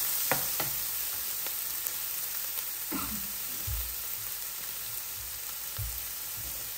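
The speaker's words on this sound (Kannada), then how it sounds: "ಇವಾಗ ಈರುಳ್ಳಿ ಚೆನ್ನಾಗಿ ಫ್ರೈ ಆಗಬೇಕು" Onions frying in a pan for palak paneer, a soft continuous sizzle with a few scattered stirring knocks and scrapes, fairly quiet and with no voices.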